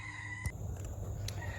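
Chickens on a farm give a short burst of clucking and faint calls over a steady low background hum.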